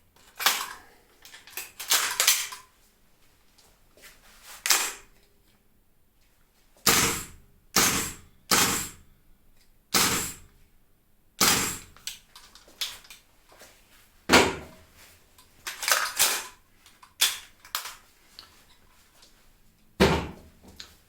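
A KWA LM4C PTR gas blowback airsoft rifle is cycled dry without BBs, giving a series of sharp, close metallic clacks spaced a second or two apart, some in quick double bursts, with quiet pauses between.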